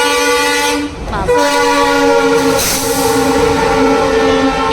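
A train rumbles steadily past nearby, its horn sounding in long sustained tones throughout.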